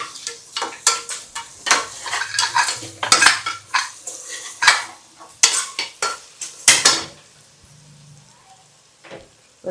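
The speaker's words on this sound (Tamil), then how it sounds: "அதுக்கப்புறம் பார்த்தீங்கன்னா தக்காளி போட்டு நல்லா வணக்கிட்டுங்க." Tomatoes with onion, mustard seeds and garlic are sautéed in a pan, with a metal utensil clattering and scraping in quick irregular strokes over a soft sizzle, loud and close, easing off toward the end.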